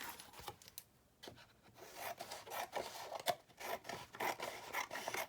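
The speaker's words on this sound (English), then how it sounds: "So I am just gonna cut off the excess here." Scissors snip through excess paper for a Halloween 6x6 quad folio album with quick, close, quiet crisp cuts and rustling, repeated irregularly with no talk.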